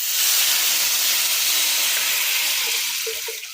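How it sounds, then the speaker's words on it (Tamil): Tamarind water poured into a hot pot of tomato rasam gives a loud, steady hiss and sizzle that tapers slightly at the end, with no voices. "இப்போ நம்ம புளி தண்ணி ஊற்றிடலாம்"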